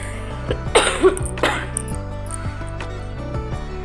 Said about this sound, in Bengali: ভয়েসটা দেওয়ার সময় কাশি হচ্ছে